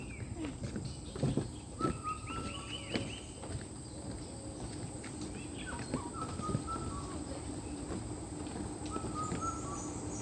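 Wild birds call deep in a mangrove forest at an eco resort park in Barguna, Bangladesh. Repeated chirps and whistled notes sound at moderate distance over a constant insect hum.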